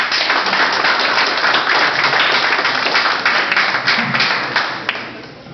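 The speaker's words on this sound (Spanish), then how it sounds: "Por favor, un aplauso para el señor." Sustained applause fills a room at a corporate mining event in Peru, dense and even throughout before thinning out near the end.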